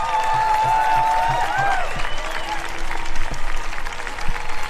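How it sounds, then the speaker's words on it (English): Outdoor crowd applause at a rally at the Minnesota State Capitol, a steady wash of many hands clapping that runs the whole stretch, with a few brief whistles or cheers riding over it early on. "Can we just give her another round of applause,"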